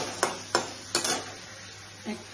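Ghee-fried paneer pieces drop into a pan of curry and get stirred, making three or four distinct clunks over a faint background hiss, quiet overall.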